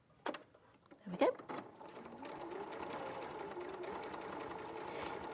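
A sewing machine runs steadily at close range while sewing a quarter-inch seam, starting after a few clicks and handling noises and humming on to the end.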